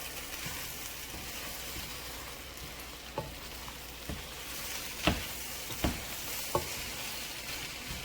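Rice stir-fry with cauliflower sizzles steadily in a hot pan, with a few sharp scraping knocks from the spoon as it is stirred, close and fairly quiet, with no talking.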